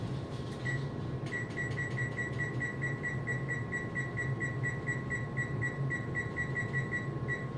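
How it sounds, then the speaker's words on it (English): A quirky home oven's timer beeps as it is set for 27 minutes at 400 degrees, a quick run of evenly spaced, high, close electronic beeps repeating over a steady low hum. "the timer is set for 27 minutes at 400 degrees in my quirky oven"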